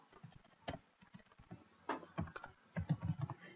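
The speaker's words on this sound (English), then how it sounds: "I type a value, test field, no training" Typing on a computer keyboard, a close, irregular patter of light key clicks in short bursts, with a few heavier taps toward the end and no talk.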